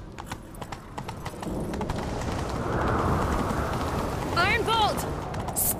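Roach, a horse in a video game, gallops with rapid rhythmic hoofbeats that blend into a rushing wind-like roar, and a short whinny sounds near the end.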